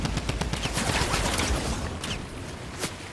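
Rapid bursts of gunfire in Fortnite crackle continuously at moderate volume, a dense rattle of repeated shots like automatic fire, with a couple of sharper single reports near the end.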